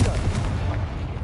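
A Confringo blasting curse spell cast in Hogwarts Legacy, a short heavy explosive boom with a rumbling burst that fills the whole moment, loud and close.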